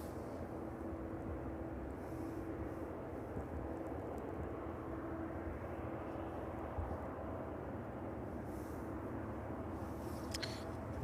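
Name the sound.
aircraft flying at East Midlands Airport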